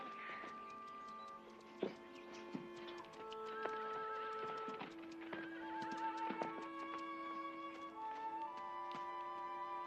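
A horse whinnies and its hooves clop softly, heard quietly over a steady tonal background.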